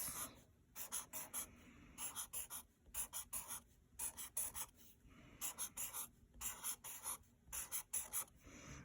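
A pen or pencil draws a fraction model of wholes by hand in quick rhythmic bursts of scratchy strokes with short pauses between, close and soft, with no speech.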